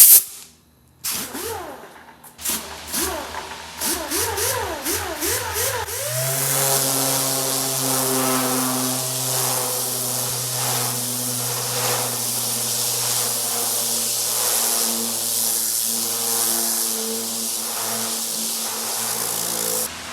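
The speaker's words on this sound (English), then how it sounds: "we're using the Ingersoll Rand 328B 8-inch geared orbital sander" An Ingersoll Rand 328B 8-inch geared orbital air sander strips paint from the hood of a Volkswagen Karmann Ghia, revving up in a few short bursts and then holding a loud, steady hissing whine with rasping grit noise, close and without talk.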